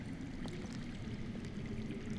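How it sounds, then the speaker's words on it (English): Faint underground water flows and trickles in a Game of Thrones video game, a quiet steady rushing with soft splashing, heard alone without speech. "I hear water. From underground."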